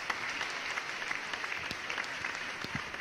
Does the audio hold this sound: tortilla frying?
no